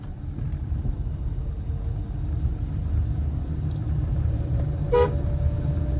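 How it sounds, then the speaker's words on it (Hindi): A car horn sounds over a steady low engine rumble, with a brief louder honk near the end amid road noise. "लॉन्ग हॉर्न प्रेस करो"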